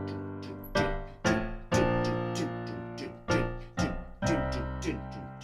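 Solo piano plays a syncopated accompaniment from a song in Hamilton: about six crisp, ringing chord strikes in an off-beat pattern, each decaying before the next, with no voices.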